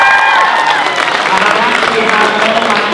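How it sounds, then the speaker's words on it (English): An audience at a Young Social Innovators event applauding and cheering continuously, a dense, steady wash of clapping and crowd noise throughout. "Can we give Limerick a round of applause"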